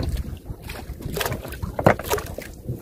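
A small boat moves along a flooded river's strong current, with steady water wash and wind rumble throughout and brief louder splashes and knocks near the middle; a faint voice is heard.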